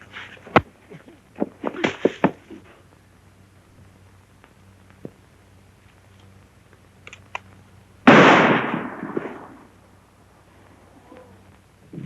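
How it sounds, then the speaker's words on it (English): A gunshot rings out in an old western film, one sharp loud crack with a brief echoing tail after a few fainter pops and knocks earlier in a quiet outdoor scene. "That shot came from over there."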